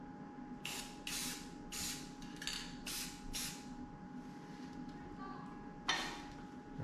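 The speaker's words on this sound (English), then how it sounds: "put it up where you want it and then spray it with the color" Short hissing bursts of spray paint, about eight quick squirts in an uneven rhythm, applied close up to mark bolt hole positions while repairing an old Cummins generator, with a faint steady tone underneath.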